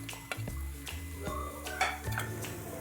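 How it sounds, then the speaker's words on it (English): Grated coconut and turmeric being stirred into chopped greens in a pan for a South Indian keerai thoran: close, irregular scrapes and light clinks of a spoon against the pan, with no talking. "Finally, add some freshly grated coconut and mix everything well."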